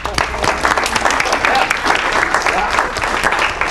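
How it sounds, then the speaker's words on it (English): An audience at a real estate seminar gives a loud, steady round of applause, with dense clapping running throughout. "Round of applause, please."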